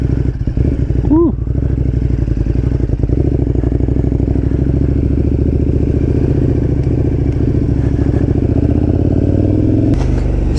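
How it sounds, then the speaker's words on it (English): A KTM 1290 Super Duke R rides and accelerates, its loud engine droning steadily with a short rising rev near the start and a sharp crackle at the end, heard close from onboard. "KTM SuperDuke 1290. This thing, as I'm sure everybody knows, is a fucking wheelie monster."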